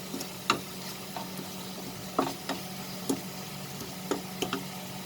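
Ingredients for ghugni sauté in a pan with salt, a low sizzle underneath scattered light taps and scrapes of a spoon against the pan.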